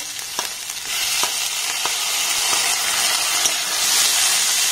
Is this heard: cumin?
yes